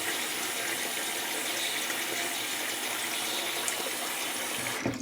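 Tap water runs steadily into a sink during a shave, a constant close hiss and splash with a small clunk at the end.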